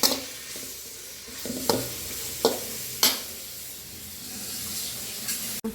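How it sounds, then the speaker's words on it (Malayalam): Tomatoes sautéing in a pan for a pappadam curry: a steady sizzle with several short scraping stirs and spoon knocks spaced through, close and fairly quiet, with no talking. "തക്കാളി ഒന്ന് നന്നായിട്ട് വഴറ്റി അതിൻ്റെ നീരൊക്കെ അതിലേക്കൊന്ന് ഇറങ്ങട്ടെ"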